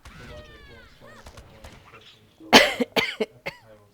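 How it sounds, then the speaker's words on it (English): After some quiet, muffled vocal sounds, a person coughs loudly several times in quick succession, close to the listener. "I apologize for the coughing, by the way."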